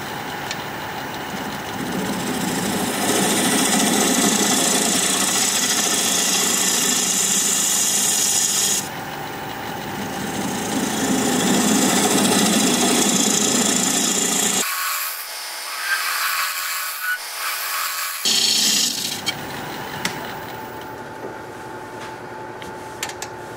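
A wood lathe turns a bowl blank at about 850 rpm while a tool cuts a recess, giving steady loud scraping and rasping with brief pauses and a quieter motor hum between cuts, no talk.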